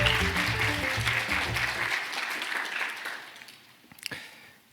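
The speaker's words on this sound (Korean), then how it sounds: "박수로 환영해 주시기 바랍니다." An audience at a Bank of Korea and KDI labour-market seminar applauds to welcome a presenter. The sustained clapping fills the hall over low background tones, then thins out and fades after a few seconds.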